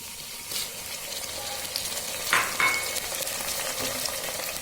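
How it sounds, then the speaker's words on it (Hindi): Garlic ginger paste hitting browned onions in a hot pan for a black chana curry, a close steady sizzle and frying crackle with a few stirring clinks. "अनियन ब्राउन हो गया है। अब इसमें हम डालते हैं लहसुन अदरक का पेस्ट।"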